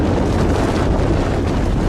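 Large tornado roaring during a storm near Amber, Oklahoma: a loud, steady, broadband rushing roar with heavy wind buffeting, sustained without break.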